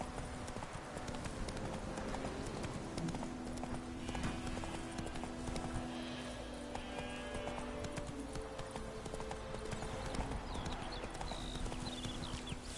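Geralt's horse Roach from The Witcher 3 clip-clops at a steady trot, hooves thudding in an even rhythm over a continuous game soundscape, with a faint whinny partway through.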